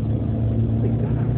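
Cabin noise of a ride-hailing driver's loud car on a highway: a constant low droning engine and road rumble, close and steady throughout, with no clear talking.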